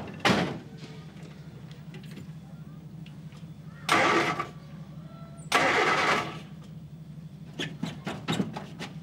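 A car engine being cranked in a comedy series scene, three loud bursts of starter cranking separated by a low idle-like hum, with smaller clatters near the end.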